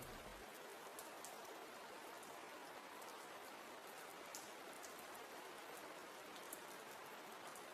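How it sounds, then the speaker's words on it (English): Gentle rain falling steadily in a quiet bedroom, an even soft hiss with scattered faint droplet taps throughout, no voices. "only the gentle rain"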